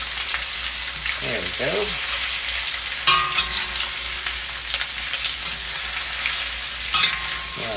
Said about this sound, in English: Stir-fried potatoes, yes indeed.